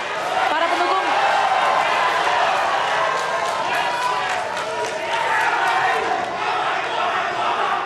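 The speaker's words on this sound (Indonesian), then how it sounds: "kita beri tepuk tangan yang meriah para pendukung" Crowd of supporters at a presidential debate cheering and clapping loudly, a dense continuous roar of applause and shouts that holds steady throughout.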